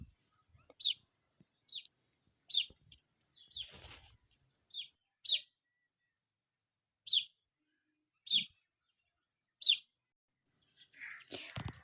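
Small birds being fed grain give short, high chirps at irregular intervals, sparse and moderately faint against quiet surroundings, with soft rustling and shuffling noises between calls.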